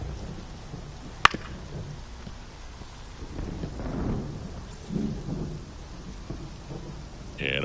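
Steady rain falls over a ballpark in a baseball video game, a broad hiss that sits under the other sounds, with a sharp crack partway through and swells of crowd-like noise.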